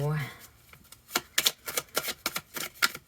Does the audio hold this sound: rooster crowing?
no